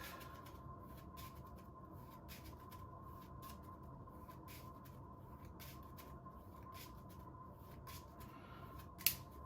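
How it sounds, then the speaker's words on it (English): A deck of cards being shuffled during a tabletop session of Arkham Horror: The Card Game, with soft, repeated papery riffles and flicks throughout, faint and close, over a steady low background hum, with no talking. "Sorry, this is the deck, and I'm still shuffling this deck."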